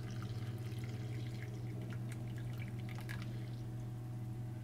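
Freshly brewed pour-over coffee pours steadily from a vessel into a cup, a soft continuous liquid trickle with faint drips over a low steady hum.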